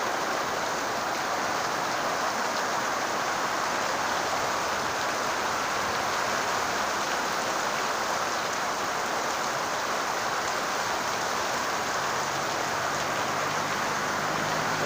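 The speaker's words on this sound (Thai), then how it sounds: "โอ้ฝนตกคักวะ" Heavy rain from a summer storm in Sa Kaeo, Thailand pours down in a dense, unbroken roar, loud and constant from start to finish, with no voices.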